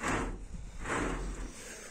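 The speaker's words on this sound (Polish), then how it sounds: "Te drzwi są przesuwne." The sliding door of a bird aviary enclosure rumbles along its track twice, a close, scraping glide with no talking.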